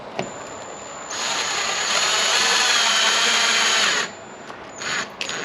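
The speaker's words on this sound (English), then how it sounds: "we'll start putting the screws in." Power drill driving screws while installing a CTS V conversion kit on a Cadillac CTS V Sport, a loud, close whine running about three seconds under load, then a couple of short bursts.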